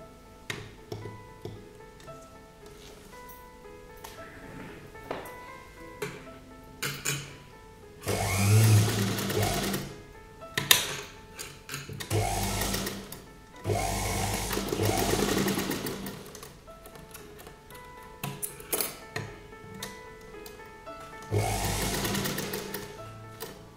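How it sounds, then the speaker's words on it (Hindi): A sewing machine stitches kurta sleeves in several loud running bursts, each lasting a few seconds, separated by pauses filled with quieter handling clicks. "अब हम इनको ऐसे सिलाई लगा लेंगे।"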